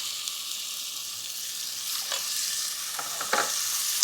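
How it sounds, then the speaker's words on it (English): A spoon stirring arborio rice risotto in a hot pot, a soft continuous sizzle with a few scraping strokes of the spoon near the end, close and fairly quiet, no talk. "The trick is to stick to the pot and make sure you're stirring constantly."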